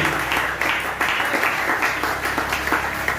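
A church congregation applauds with steady, dense clapping throughout, fairly loud and close, with no clear talk over it.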